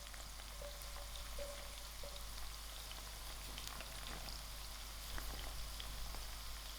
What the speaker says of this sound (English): I'm going to allow my onions to fry till it's turning brown